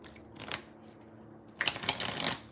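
Tarot cards are shuffled by hand in two short bursts of riffling and flicking, close and fairly quiet, with no talking.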